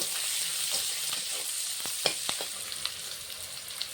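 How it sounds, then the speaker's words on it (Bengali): Sliced onion frying lightly in hot oil in a pan for a shrimp curry with potato, pointed gourd and eggplant: a steady, close bright sizzle with scattered small pops and spatters, no talking. "পেঁয়াজটা আমি হালকা ভেজে নেব।"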